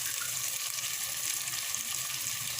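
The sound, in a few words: bottle gourd cubes frying in pan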